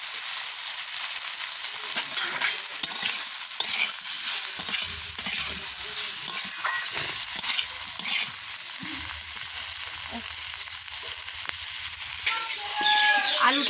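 Potatoes sautéing in oil with salt for a thin singhi fish curry, making a loud, continuous sizzling hiss broken by occasional stirring scrapes.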